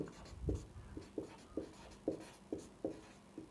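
A pen or chalk scratches out the working of a linear equation during a maths lesson: a quiet run of short, regular strokes and taps, close but faint, with no talking.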